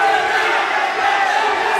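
Crowd at a York Hall boxing fight between Dominik Matusz and Liam McGrandles roars steadily, a loud, dense wall of cheering and shouting that fills the whole moment.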